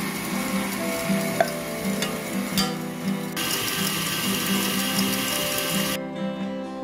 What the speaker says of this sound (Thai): แล้วก็ตีไปเรื่อย ๆใส่น้ำตาล 45กรัมค่อยๆใส่ทีละนิดนะคะ